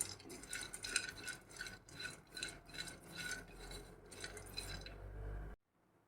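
Chopped nuts dry-roast in a pan while being stirred constantly, a faint rhythmic scraping and rattling of repeated strokes that stops abruptly near the end.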